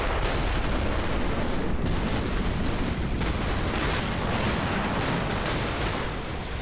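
Machine gun fire in the wargame Combat Mission: Battle for Normandy rattles in dense, unbroken bursts mixed with other distant gunfire and booms, loud and constant with no talking.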